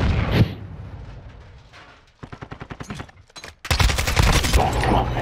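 Rapid automatic gunfire from a Kastov 545 rifle in the Modern Warfare 2 multiplayer video game, loud and close in two sustained bursts with brief gaps, preceded by a sharp shot and surrounded by game noise.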